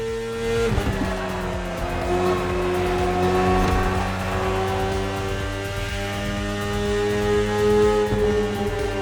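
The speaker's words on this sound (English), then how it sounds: "The one you're riding is the S1000RR. It's what we call a superbike." A BMW S1000RR superbike ridden in the racing game The Crew Motorfest gives off a loud, sustained engine whine with layered harmonic tones. The pitch holds steady with slight swells throughout and no talk.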